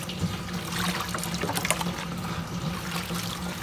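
Warm water splashes and trickles steadily as bundles of virgin human hair are washed with shampoo, a continuous close sloshing with no talk.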